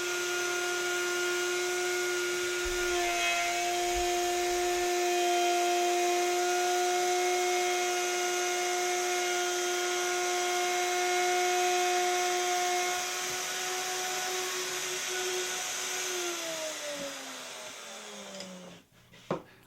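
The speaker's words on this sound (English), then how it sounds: "I lock the plunge, then slowly swing the router through the cut." A plunge router cutting through a wooden jig base, a loud steady high-pitched whine that holds for most of the run, then winds down in pitch and fades, ending with a brief clunk.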